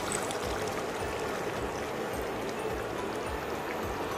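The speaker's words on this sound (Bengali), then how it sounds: "আমি তখন এর মধ্যে লিকুইড দুধটা দিয়ে দিব" Liquid milk being poured into meat cooking in a pot over medium heat, a steady, close rushing and trickling wash that continues without break and with no talking.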